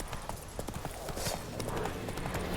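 A horse named Roach galloping in The Witcher 3 video game, a fast, close, rhythmic clip-clop of hooves running steadily throughout with faint game ambience behind.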